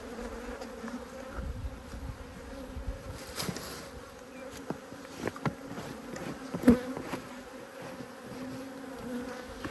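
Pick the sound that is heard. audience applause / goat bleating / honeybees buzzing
honeybees buzzing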